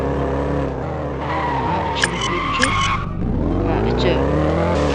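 A video game car drifts with a revving engine drone and sharp tire squeals breaking out in bursts midway, while a voice talks over the gameplay.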